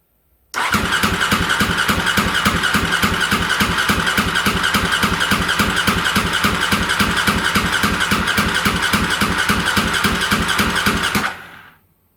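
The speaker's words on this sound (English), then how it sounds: "you don't want to overcook it because you'll burn your starter motor out" A motorcycle that had been in storage is cranked by its starter motor, producing a loud, rapid, even churning rhythm that runs continuously for about eleven seconds without the engine catching, then stops abruptly.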